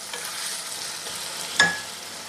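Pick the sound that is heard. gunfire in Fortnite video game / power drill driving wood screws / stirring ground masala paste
stirring ground masala paste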